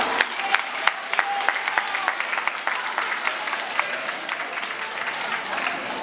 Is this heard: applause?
yes